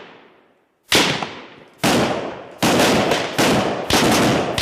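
Army rifles firing during fire-and-cover training: a series of five loud, close gunshots at uneven intervals, each followed by a long echoing decay, with no talking.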